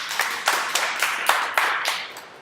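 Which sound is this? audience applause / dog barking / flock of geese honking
audience applause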